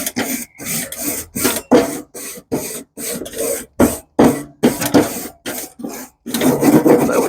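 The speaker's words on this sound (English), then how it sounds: "go ahead and throw our other grill plate back on there" A metal grill plate goes back onto a smoker grill with a series of close, loud scraping and rasping bursts in an uneven rhythm, with short gaps between them.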